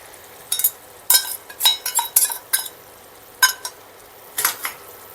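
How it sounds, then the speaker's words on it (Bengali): A spoon clinks and scrapes against a pan as vegetarian Malabar spinach curry with spices gets stirred, giving scattered bursts of metallic knocks and rattles with quiet gaps between them, close up and without voices. "আবার একটু ভালো করে নাড়াচাড়া করে নেব।"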